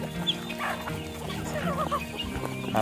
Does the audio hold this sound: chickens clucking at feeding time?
yes